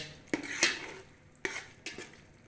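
Spoon scraping and clinking against a pot as chili powder and salt are mixed into food, a few sharp knocks in an irregular rhythm, close and fairly quiet.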